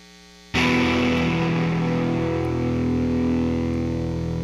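Guitar amplifier re-amped straight from an audio interface's line output: a low electrical hum, then a heavily distorted chord struck once and left ringing with a buzzy, slowly fading sustain.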